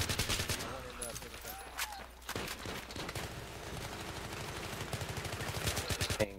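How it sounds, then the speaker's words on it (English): Gunfire from an Xbox 360 infantry shooter: bursts of rapid automatic shots, loudest near the start and in a quick regular run toward the end, mixed with game noise and no clear talking. "you're behind the wall and you're still shooting"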